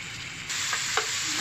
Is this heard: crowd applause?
no